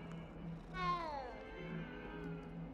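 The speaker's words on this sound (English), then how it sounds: "You can pet cat." A single drawn-out meow from a cat in the Hogwarts Legacy video game, rising then sliding down in pitch, fairly close and clear over a low steady background hum.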